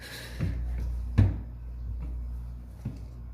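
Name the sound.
drawers being opened in an apartment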